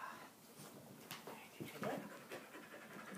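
Dog panting in short, quick breaths close by, quiet and uneven, with a faint whimper mixed in.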